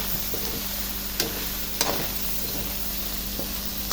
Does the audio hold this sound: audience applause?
no